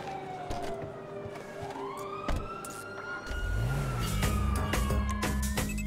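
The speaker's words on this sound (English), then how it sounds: "We're not doing this with a train of police cars behind us!" Police car sirens in the video game GTA V wail and sweep continuously alongside car engine noise, with the engine growing louder and revving in the second half.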